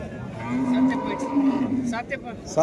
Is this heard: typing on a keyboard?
no